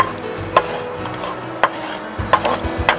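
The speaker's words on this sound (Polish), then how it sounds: "A teraz wrzucamy cebulę." Chopped onion dropping into a hot pan and being stirred with a spoon for a spinach bake, giving several sharp scraping knocks and soft rustling over a low background, with no talk.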